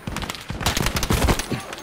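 Rapid gunfire in Battlefield 5 during a military-simulation match on the Hamada map, with dense bursts of automatic shots crackling close and loud over a short stretch, shots overlapping in quick volleys.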